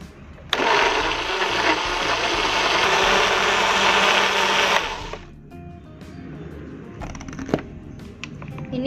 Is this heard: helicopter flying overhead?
no